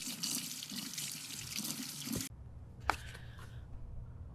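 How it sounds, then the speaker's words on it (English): Running tap water splashes steadily while an oil-painting brush is rinsed with soap and water at a sink, then cuts off abruptly, leaving a quiet room with a single sharp clunk and a few faint drips. "I'm going to wash my brush with soap and water"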